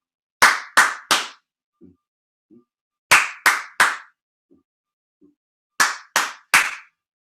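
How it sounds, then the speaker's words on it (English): A group claps a rhythm together during a music lesson, three sharp loud claps in a quick burst, a pause with soft taps, then the same three-clap pattern repeated twice more, evenly spaced. "We're going to clap."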